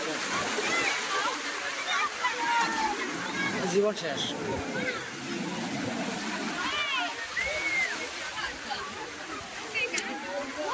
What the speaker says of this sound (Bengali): এই ঢেউ দেখেন সাগরের